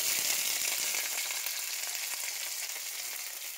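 Onions sizzle steadily in hot olive oil, a loud, close, continuous frying hiss that fades slightly over a few seconds, with no voices.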